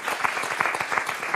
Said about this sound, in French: C'est vrai qu'on peut l'applaudir.